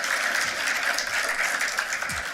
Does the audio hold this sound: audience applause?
yes